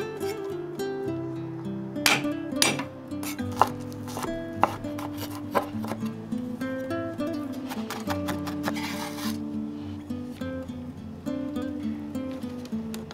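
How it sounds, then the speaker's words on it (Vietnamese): Rapid, uneven knife taps on a board as two garlic cloves are minced, close and crisp, with quiet music playing underneath and no talking. "Băm nhỏ 2 tép tỏi nè"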